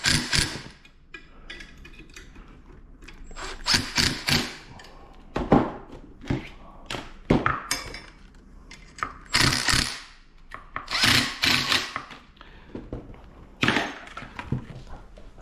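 A 10mm open-end wrench tightening a 900 W motor into a stock fork on a Crazy Cart: irregular metallic clicks, taps and clanks, close and fairly crisp, with brief pauses between bursts.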